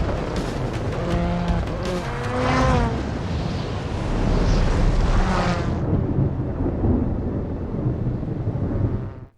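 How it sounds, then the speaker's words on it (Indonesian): Loud race car engine revving hard and roaring continuously, with tire squeal and skidding, as a car is driven flat out through a snowstorm in a racing film; the roar persists throughout before cutting off at the end. "Zhang terus tancap gas agar mesin mobilnya gak kedinginan dan mati di tengah jalan"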